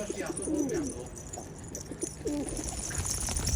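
Tumbler pigeons coo in low, rolling phrases, two or three distinct calls close by over a steady background hiss.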